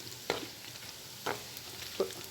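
Peanuts and chickpeas fry in oil with a faint, steady sizzle, punctuated by three soft stirring scrapes spaced about a second apart.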